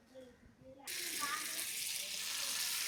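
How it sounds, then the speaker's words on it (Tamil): Cooking oil poured into a pan for frying chicken sets off a sudden, steady hiss and sizzle that starts partway through and keeps going, faint and close, after a quiet opening with a voice in the background. "சிக்கன் பொரிக்க போகிறோம். இங்கே எண்ணெய் ஊற்றுறோம்."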